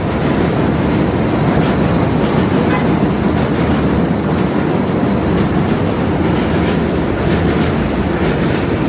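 An elevated train rumbles loudly and steadily overhead in Sunnyside, Queens, its wheels clattering with faint squeals, a constant heavy roar throughout.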